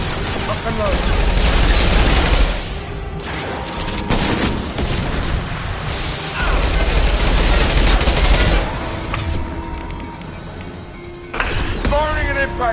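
Heavy gunfire and booming blasts from a concussive shot fired in the sci-fi shooter Mass Effect 2, loud and continuous, with bursts, impacts and a voice speaking over the combat.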